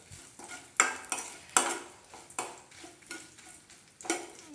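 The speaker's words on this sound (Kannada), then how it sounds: "ಶುಂಠಿ ಬೆಳ್ಳುಳ್ಳಿ ಪೇಸ್ಟು ಒಣಮೆಣ್ಸಿಕಾಯಿ ಇದನ್ನು ಲೈಟಾಗಿ ಬಾಡಿಸ್ಕೊಳ್ಳಿ" Peppercorns, ginger-garlic paste and dried chillies sautéing for tomato sambar, a sizzle under repeated rhythmic scrapes and clinks of a spoon against the pan, close and alone with no voices.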